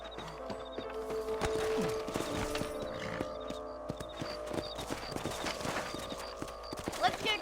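Horse hooves gallop with a steady clip-clop rhythm through open country in the Western video game Red Dead Redemption, with an occasional whinny, under near, continuous character dialogue.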